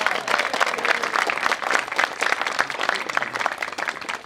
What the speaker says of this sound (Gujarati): 2 ઘરને અજવાળનારી દીકરી માટે એકવાર જોરદાર તાળીઓ થઈ જાય